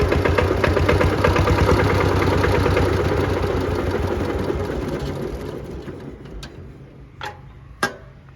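A 60-year-old Kubota L13G tractor engine idles with a steady, lumpy chugging that gradually fades, followed by a couple of sharp clanks near the end.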